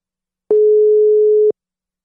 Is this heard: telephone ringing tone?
yes